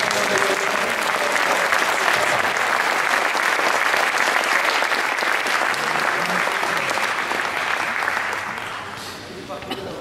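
A large audience applauds children loudly and continuously, the dense clapping holding steady before easing off near the end.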